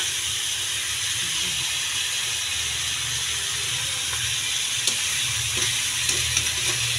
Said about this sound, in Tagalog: until mag-golden brown yung chicken